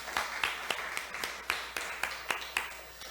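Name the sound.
congregation applauding to welcome new visitors in church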